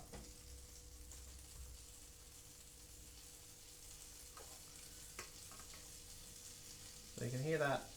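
Butter sizzling steadily in a hot frying pan while French toast is being made, a soft continuous crackle with a few faint clinks, ending in a brief louder scrape of the pan.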